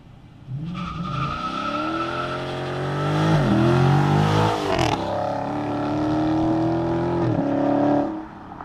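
A 2018 Dodge Challenger R/T Scat Pack launches under launch control, its engine revving hard, then roaring through rising gear pulls with a brief shift break, loud and close before cutting off.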